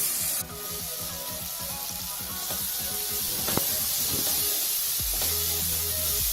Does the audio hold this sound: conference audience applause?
no